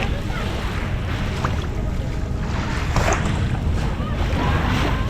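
Steady rush of sea waves and wind at a beach in Dobrota on the Bay of Kotor, Montenegro, a constant loud wash without distinct breaks, no speech.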